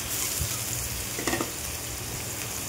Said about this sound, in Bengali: এদিকে পাঁচফোড়ন, শুকনো লঙ্কা, তারপরে পেঁয়াজ দিয়ে দিলাম। এটা ভালোভাবে ভাজা হলে তবেই আমি আলুটা দিয়ে দেবো।